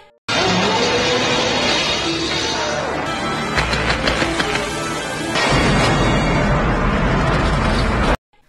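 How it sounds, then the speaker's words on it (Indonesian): A shark exploding in the film Jaws: The Revenge (1987), a loud, sustained roaring blast with rumbling booms and crashing debris, continuous for several seconds before cutting off abruptly. "Hiunya langsung meledak tuh, dan bangkainya tenggelam ke dasar laut."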